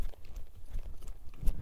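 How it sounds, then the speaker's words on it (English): Hooves of a horse moving freely around a large arena, an uneven series of soft, low thuds at a walking pace, fairly close, with no voices. "Okay, so now I have this horse freely moving out."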